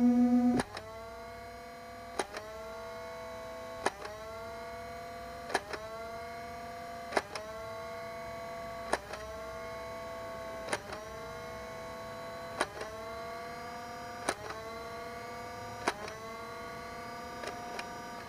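A stock Nerf N-Strike Elite Stryfe blaster fires ten foam darts, each shot a sharp snap followed by a whirring flywheel motor spinning back up, spaced a couple of seconds apart in a quiet room.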